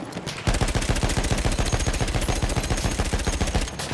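Rapid automatic gunfire in the Battlefield 1 video game, a loud continuous burst of evenly spaced shots lasting several seconds, starting abruptly and cutting off near the end, with no voices over it.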